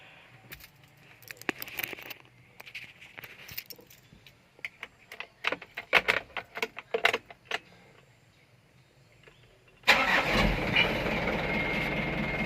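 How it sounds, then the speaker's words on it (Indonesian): Scattered clicks and rattles, then the diesel engine of a 2012 Mitsubishi Canter truck turns over and settles into a steady, loud rumbling idle as it warms up. "Bentar ya, kita panasin mesin."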